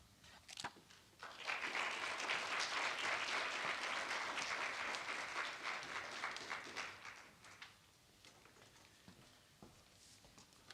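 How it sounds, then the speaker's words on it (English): Audience applause at a Meharry Medical College campaign event, swelling from scattered claps into a full sustained round of clapping that fades back to a few claps. "let's give another round of applause to our campaign leadership"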